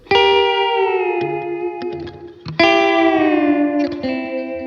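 An electric guitar played through effects pedals rings out two sustained bent notes with a sweet, pedal-steel-like glide, layered with chorus and echo, each note swelling then slowly fading.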